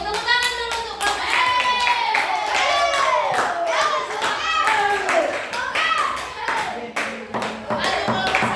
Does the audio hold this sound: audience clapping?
yes